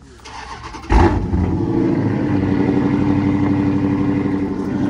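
A Dodge Charger SRT 392 with cut exhaust pipes starts up after a quiet moment, firing with a sharp loud bark and then settling into a steady, rumbling idle close by.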